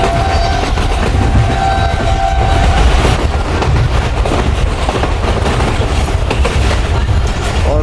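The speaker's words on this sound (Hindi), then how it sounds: "काफ़ी अच्छी स्पीड में ट्रेन दौड़ रही है भाई" Tezgam express train running at good speed, a loud, steady rushing roar with rhythmic clattering of wheels on rails, heard close from on board without pause.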